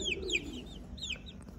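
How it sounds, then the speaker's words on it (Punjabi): Young chicks hatched in an incubator give a few thin, high peeping chirps close by over a faint background hum, with no talking. "ਆਹ ਮਿੱਤਰੋ ਆਪਾਂ ਮਸ਼ੀਨ ਤੋਂ ਜਿਹੜੇ ਚੂਚੇ ਕਢਾਏ"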